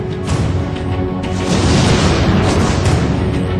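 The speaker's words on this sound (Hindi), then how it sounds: "धमाके और उसकी आवाज से वहां की खिड़कियों के कांच टूट गए" A loud, rumbling explosion blast that shattered nearby window glass, with a heavy low-frequency boom that swells and sustains for a few seconds, close and overwhelming, with no talking.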